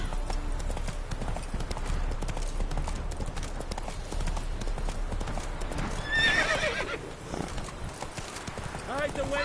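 Roach, a horse in The Witcher 3, gallops with loud continuous hoofbeats and a whinny partway through, under game music and voices.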